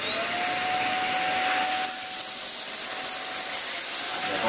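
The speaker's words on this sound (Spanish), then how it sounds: "ahí he echado unos granitos de arroz, que como tienen más peso que el propio polvo que podemos recoger con la aspiradora normalmente, vamos a probar bien el poder de succión" A PUPPYOO WP521 vacuum cleaner runs with a loud, steady roar and a thin whine while sucking up rice grains, with no talking over it.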